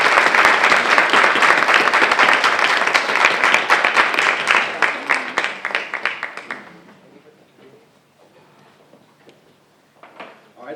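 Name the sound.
audience applause for spelling bee contestants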